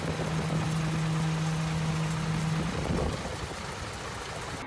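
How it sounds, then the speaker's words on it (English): A Mustang engine runs rough from spark plug wires fitted in the wrong firing order, a steady low drone over broad hiss that cuts off partway through and leaves a quieter rumble. "they plugged the spark plug wires in the wrong order, making the motor misfire insanely"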